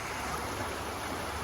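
A river flows with a soft, steady rushing of water, faint and continuous, no voices over it.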